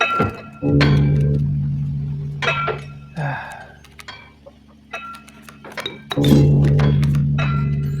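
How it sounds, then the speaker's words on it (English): Metal strikes on stone in the game Inscryption make sharp clinks at irregular intervals over a low droning music bed, with some faint, half-heard voice. "In the distance, you could hear the clinking of metal on stone"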